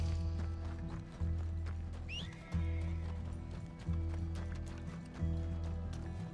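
Horse hooves clip-clop steadily in a video game, close and regular over a low droning background, with a brief whinny partway through.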